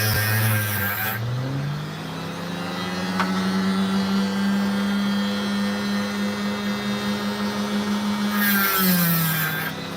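Cutting through sand while working opal: a steady, loud whirring grind of a motorized cutter that holds a sustained tone for several seconds, with brief higher-pitched surges at the start and end.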